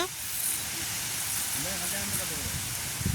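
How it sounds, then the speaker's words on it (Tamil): Mustard seeds dropped into boiling oil to temper a banana stem curry at an outdoor village kitchen give a steady, close sizzling hiss throughout, with a voice faintly audible beneath it. "இனி கறிக்கு நாங்கள் தாளிச்சு போடுறதுக்கு கடுகு போடுவோம். எண்ணெய் நல்லா கொதிச்சிட்டுது."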